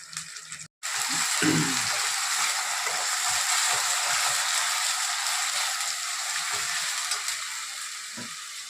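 Onions fry in a pan for a mutton curry with a loud, steady sizzle. The sizzle cuts out briefly near the start, then runs on evenly with a few faint stirring clinks.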